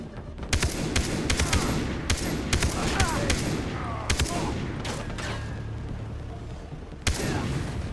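Rapid gunfire in the shooter game Far Cry 3, with repeated sharp shots and bursts in quick succession over a continuous rumbling game background.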